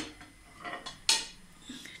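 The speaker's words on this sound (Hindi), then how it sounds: "पहले तो हम ये चॉपर लेंगे" Handling a kitchen chopper while preparing mutton kofta: light plastic and metal clatters and knocks, with one sharper clack in the middle, close and fairly quiet, with no speech.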